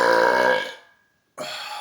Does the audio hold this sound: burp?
yes